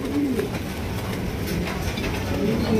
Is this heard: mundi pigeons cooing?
yes